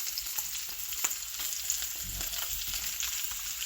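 Beef sausage dogs and onions fry in a pan with a steady, close sizzle and scattered crackling pops, and no one speaks.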